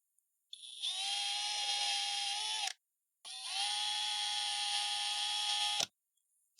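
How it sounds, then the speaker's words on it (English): A drill bores out fasteners on an old IBM Aptiva Stealth computer power supply, making two sustained high-pitched whining runs of about two seconds each, separated by a short pause, close and loud with no talking. "So yeah, I'll drill these out."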